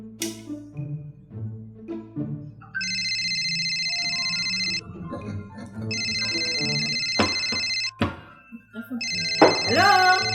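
Phone ringback tone while placing a call, heard as repeated long steady beeping bursts separated by pauses, fairly loud over a room with faint background voices and a few knocks.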